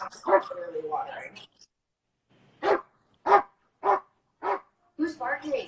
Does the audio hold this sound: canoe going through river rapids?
no